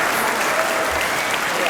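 A short burst of steady audience applause at a Veterans Day 2019 ceremony as veterans' names are read, dense clapping filling the whole moment without speech.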